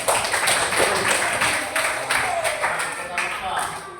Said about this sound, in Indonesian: tepuk tangan kepada Alkensa